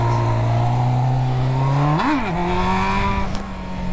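A Honda Hornet motorcycle engine revving hard during a wheelie, a loud close drone that climbs steadily, spikes sharply with a quick rev near the middle, then holds a rising pitch before easing off.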